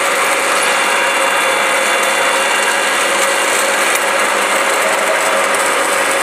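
A reversing thread tapping machine runs steadily after being switched on, with cutting spray applied, producing a constant dense mechanical whine and hum with no pauses, loud and close.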